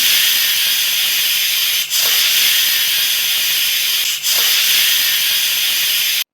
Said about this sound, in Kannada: ನಂತರ ಕುಕ್ಕರ್ ಲಿಡ್ನ ಕ್ಲೋಸ್ ಮಾಡಿ 3 ವಿಷಲ್ ಹಾಕಿಸ್ಕೊತಾ ಇದ್ದೀನಿ.